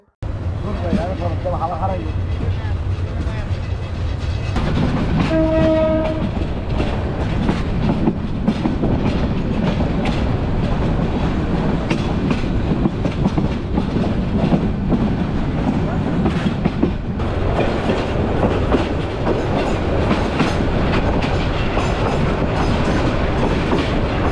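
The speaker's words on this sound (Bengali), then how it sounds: "ট্রেন ছেড়ে দেওয়া হয়েছে আমরা আস্তে আস্তে সামনের দিকে এগিয়ে যাচ্ছি" A Bangladesh Railway train running from Chittagong toward Feni, heard from inside as a steady loud rumble with rhythmic clickety-clack of wheels over rail joints, a brief horn-like tone early on, and people talking through much of it.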